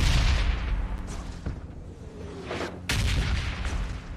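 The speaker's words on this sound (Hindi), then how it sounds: "पीछे से शॉट आया पीछे से शॉट आया" Gunfire in the PUBG Mobile Lite battle royale game, a few heavy booming shots over a loud rumbling background, one sharp burst near the end.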